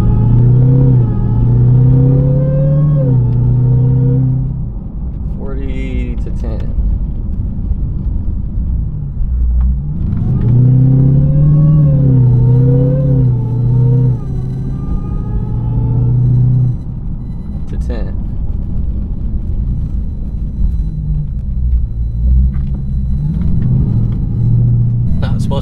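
A car driven on the road, heard from inside as a steady engine rumble that swells with repeated acceleration and falls away with braking from about 40 to 10 mph, in several cycles under someone talking.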